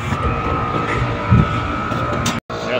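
Air conditioner unit with a faulty compressor starting up, a steady close mechanical drone with a humming tone and a brief thump, cut by a short gap near the end.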